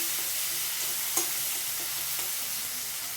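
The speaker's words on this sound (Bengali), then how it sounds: "রসুনটা ভাজা হয়ে গেছে, এবারে আদা বাটাটা দিয়ে দেবো। ওকে আমি জোর কমিয়ে ভাজবো" Garlic and ginger paste frying in oil over low heat, a steady, even hiss of sizzling close by with a single soft tap of a utensil partway through.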